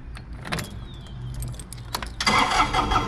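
A Bobcat S70 skid steer loader starting up: a few faint clicks and a short cranking sound, then the engine catches at about two seconds and settles into a loud, close, steady idle.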